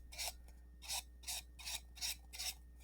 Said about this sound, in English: So just sanding the edges of this thing.